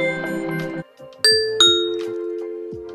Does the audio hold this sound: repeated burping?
no